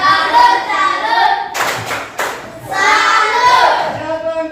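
A classroom of children clap in unison a salute rhythm, quick bursts of hand claps with brief pauses between groups, mixed with chanting voices, close and loud.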